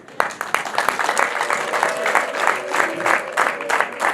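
A wedding crowd claps in uneven bursts of sharp, close hand claps that swell and fade over a few seconds, with a little voice mixed in.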